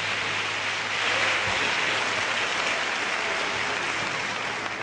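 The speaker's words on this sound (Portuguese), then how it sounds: "Eu gostaria que você também aplaudisse ao Senhor pela vida dos servos de Deus" A church congregation applauding, a loud continuous dense roar of clapping that holds steady throughout with no speech.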